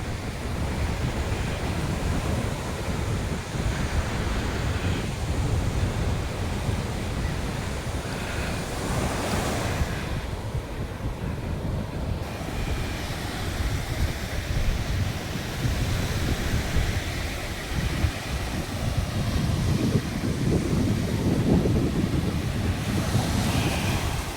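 Sea waves break and wash onto the shore in a steady roar with gusting wind buffeting the microphone, continuous and fairly close with no voices.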